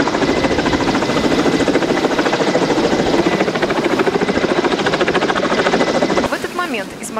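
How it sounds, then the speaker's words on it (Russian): A rescue helicopter hovers close by during a winch evacuation exercise, its rotor chopping in a steady loud pulse, with a churning engine whine underneath; it drops off abruptly near the end. "Вертолет разведки Южного авиационно-спасательного центра МЧС с помощью электролебедок эвакуирует первых пострадавших"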